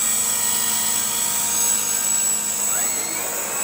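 A steady, high-pitched whine of a remote-control model helicopter's small rotor and motor hovering nearby, continuous and loud, with a slight pitch rise near the end.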